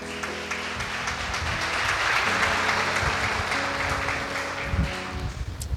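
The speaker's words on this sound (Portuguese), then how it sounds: "pode dar mais um forte aplauso a Ele." Sustained applause from a church conference audience fills the room, with low musical notes sounding underneath and the clapping thinning near the end.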